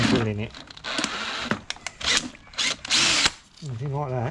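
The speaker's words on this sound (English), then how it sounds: "Brand new van, and I'm drilling it." Power drill boring through the diesel tank sender unit of a brand new VW Transporter T6 van, several short bursts of whirring between pauses, with someone talking close by throughout.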